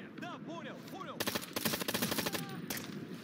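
Gunfire crackles in Ghost Recon Future Soldier's Guerrilla Mode as rapid automatic bursts rattle loudly under shouted squad callouts, with voices talking throughout.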